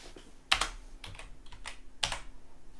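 Keys on a computer keyboard are tapped to delete code, a few sharp, close clicks in small clusters, the loudest at the start and near the end, against a quiet room background.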